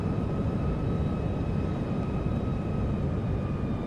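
An aircraft in the FSX flight simulator comes in to land with a steady, broad engine roar and a faint whine, loud and constant throughout with no talk.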